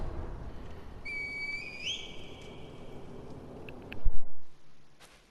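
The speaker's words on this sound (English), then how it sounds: "Call the divine heir to the red whistle." In Sekiro, the red whistle is blown once, a clear rising tone that holds for about a second before trailing off, followed later by a heavier burst of movement noise.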